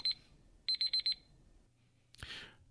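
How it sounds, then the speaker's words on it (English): Electronic alarm beeping in a quiet room, one short beep followed by a rapid run of four close, bright, piercing beeps, then a louder clattering noise near the end. "you guys heard the beep, the bip, bip, bip, the bip, bip, bip"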